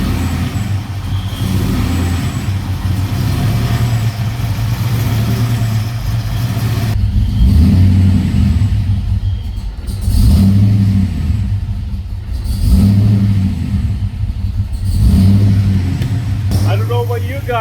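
A Ford 5.0L engine idles unevenly near 1000 to 1200 RPM, its note rising and falling in repeated surges, with a faint whistle that comes and goes under the rumble.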